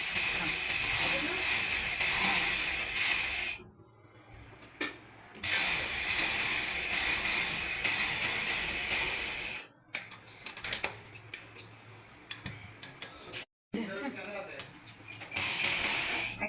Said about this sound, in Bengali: আমি এদিকে সিলাই দিয়ে দেবো